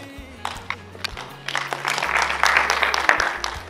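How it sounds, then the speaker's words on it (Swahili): An audience claps at a speech event, with scattered claps building into fuller applause over a low hum and some faint voices. "Jamani makofi ya toshi."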